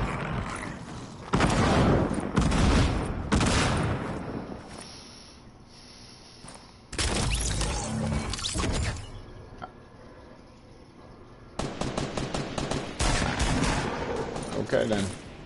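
Video game gunfire comes in several loud bursts of rapid shots separated by quieter gaps, with players talking over the action.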